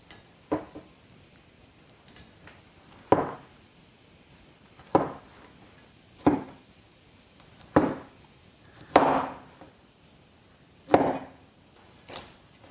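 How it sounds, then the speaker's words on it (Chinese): A knife cuts cauliflower into small florets on a board. Sharp single chops land roughly every one to two seconds against a quiet background, and some strikes sound heavier than others. "先把它大花切成小花"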